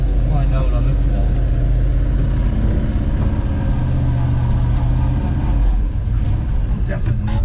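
A 1973 Ford F-250 on military tires labors up a snowy hill, its engine droning low and steady inside the cab while people talk over it.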